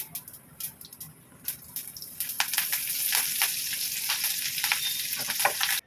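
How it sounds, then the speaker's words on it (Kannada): Mustard seeds and curry leaves crackle and sputter in about two spoons of hot oil for a South Indian tempering, a close, dense popping sizzle that builds and grows busier toward the end. "ಸುಮಾರು ಒಂದು 2 ಸ್ಪೂನಷ್ಟು ಎಣ್ಣೆ, ಹಾಗೆಯೇ ಸ್ವಲ್ಪ ಸಾಸಿವೆ ಕರಿಬೇವನ್ನು ಹಾಕಿ ಚೆನ್ನಾಗಿ ಇದನ್ನು ಚಿಟ್ಗುಡಿಸ್ಕೊಳ್ಳೋಣ"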